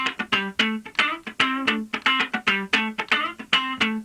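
Funk rhythm guitar plays a one-bar pattern with a straight feel, tight muted scratches alternating with bright chord stabs in a quick, even groove, played alone at moderate volume.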